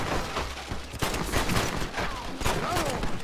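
Pistol gunshots in the Red Dead Redemption video game, a dense burst of sharp, loud cracks in quick succession over game noise, with talk mixed in.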